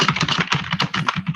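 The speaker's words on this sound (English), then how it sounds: "I know you can hear the typing" Rapid, steady clatter of keys on a computer keyboard, close and continuous with no pauses, no voices.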